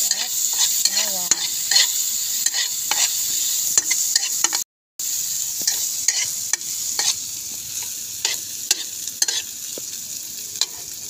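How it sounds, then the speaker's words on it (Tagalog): Onion and garlic sauté in a hot pan under a continuous bright sizzle, with sharp, irregular scrapes and taps of stirring throughout and one brief dropout midway, close and without speech. "Haluin. Nilagay ko na yung sibuyas at bawang."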